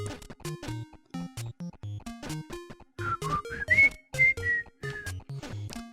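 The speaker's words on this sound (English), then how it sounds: "Sorry about the whistling." Someone whistles a rising, wavering tune over bouncy game music while playing Princess Remedy in a World of Hurt, the whistling clearest in the middle of the stretch.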